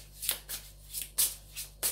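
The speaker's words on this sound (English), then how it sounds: "As I shuffle the cards" Several quick, crisp riffles of tarot cards being shuffled, close up, in a rhythmic series of short bursts.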